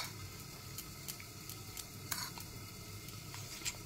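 Mung dal batter with salt and coriander leaves is stirred in a bowl, giving soft, close, wet squishing and scraping with a few light taps over a steady low background, without talking.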